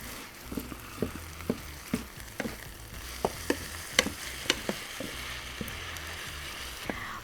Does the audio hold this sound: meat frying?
yes